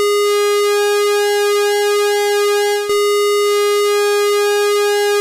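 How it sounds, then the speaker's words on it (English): A steady buzzy tone from a Behringer CAT synth, its pulse width modulated by a sine-wave LFO with delay, so the timbre slowly sweeps and shimmers in a smooth cyclic wobble, sustained and loud with no other sounds. "you're going to hear that the LFO delay is working with the sine wave that's modulating pulse width"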